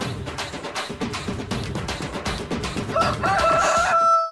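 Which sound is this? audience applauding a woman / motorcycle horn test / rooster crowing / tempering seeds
rooster crowing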